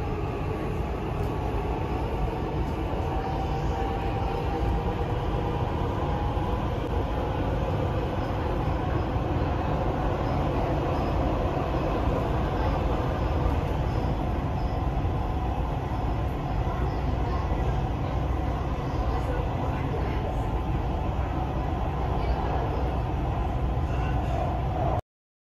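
A metro train on the way to Expo 2020 in Dubai rumbles steadily from inside the carriage, a constant loud roar of wheels and motors with no clear voices above it.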